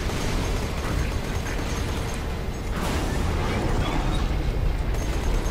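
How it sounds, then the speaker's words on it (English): Dense, continuous rumbling blasts from BNK3R mortar explosions in the video game Borderlands 2, a loud, unbroken wash of booms and crackling debris with no clear gaps between impacts. "He's going for another mortar run."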